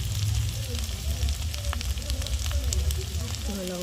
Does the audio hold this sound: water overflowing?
no